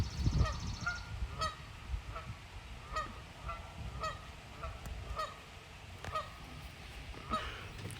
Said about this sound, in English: Geese watching on our golf cart ride.